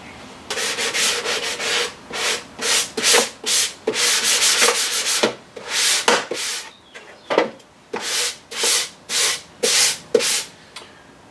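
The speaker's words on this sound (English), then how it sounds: "I'm just finishing up with some flexible sandpaper, 220 on a foam block, to sort of get the contours figured out" Flexible 220-grit sandpaper on a foam block rubbing a contoured surface, a run of rhythmic back-and-forth strokes, each a loud close scratchy swish with brief gaps between, no talking.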